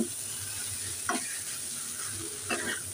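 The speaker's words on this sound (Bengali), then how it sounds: "আমি এবার ম্যাশ করে রাখা আলুটা দিয়ে দিচ্ছি। এবার আমি ভালো করে নেড়ে চেড়ে নিচ্ছি" Mashed potato being stirred as it fries in a pan, a low steady sizzle with two distinct scraping strokes of a spatula, close and fairly quiet.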